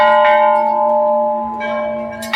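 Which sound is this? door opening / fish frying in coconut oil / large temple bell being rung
large temple bell being rung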